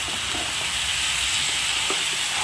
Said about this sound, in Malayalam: ഇനി ഇതിലേക്ക് നമ്മൾ ഫ്രൈ ചെയ്ത് വെച്ചിരിക്കുന്ന ചിക്കൻ ഉണ്ടല്ലോ അത് മുഴുവനായിട്ട് ഇതിനകത്തേക്ക് ഇട്ട് കൊടുക്കാം